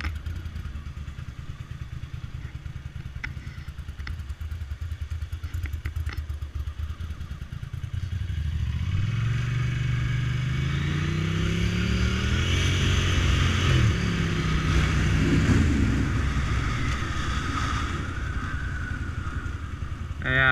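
Motorcycle engine while riding along South Padre Island, steady and close at first, then revving and accelerating loudly through rising gear pulls, continuous without talk.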